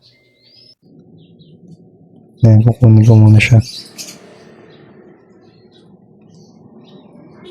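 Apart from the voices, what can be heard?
house sparrow chick chirping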